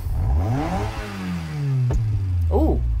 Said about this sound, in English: Ooh, I heard it backfire.